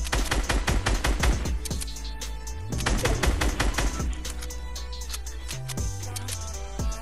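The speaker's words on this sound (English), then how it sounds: "Bro, he's still shooting at me." Rapid bursts of automatic gunfire from an enemy player in a battle royale video game, loud and close, firing in dense clusters with short pauses between strings of shots and no talking.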